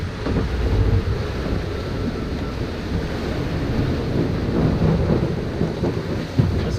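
Strong gusts of around 25 knots hitting a sailboat at sea in the Mediterranean. A constant loud, rushing roar of wind buffeting the microphone, mixed with wave wash, with no voices.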